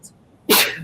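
A single sharp sneeze bursts out close by during a casual hangout about fish tanks, preceded by a faint breathy intake and trailing off quickly.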